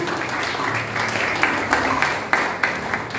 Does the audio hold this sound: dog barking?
no